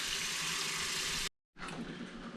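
Tap water pours steadily into a kitchen sink, filling it to purge live crawfish before steaming; the gushing rush stops briefly for a moment of silence, then resumes just as strongly.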